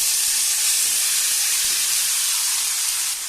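Marinated vegetables dropped into hot oil with panch phoron for a Bengali vegetable labra hiss and sizzle loudly and steadily, a close, continuous frying roar with no talking.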